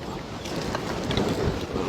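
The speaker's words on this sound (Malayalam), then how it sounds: "നല്ല കാറ്റാണ്, കാറ്റ്." Strong outdoor wind gusts beside an open cooking fire being lit to grill fish, a brief rough, blustery rush buffeting the microphone throughout.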